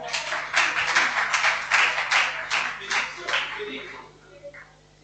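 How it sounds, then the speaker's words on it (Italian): Audience applause at a cultural dialogue and identity event in Sardinia: dense clapping from a crowd that swells in waves, then thins and fades out toward the end. "Un applauso."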